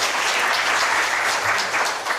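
An audience at an international scientific conference applauds in a full hall, a steady dense wash of clapping that stays even and loud for about two seconds with no talk over it.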